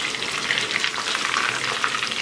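Chicken 65 pieces deep-fry in hot oil, a dense, bubbling crackle and sizzle heard up close without any voices.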